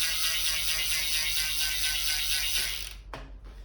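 Bicycle drivetrain turning over an 11-speed chain pieced together from scrap, giving a steady fine ticking ratchet-like whir that runs smoothly at close range, then stops abruptly with a couple of brief clicks at the end.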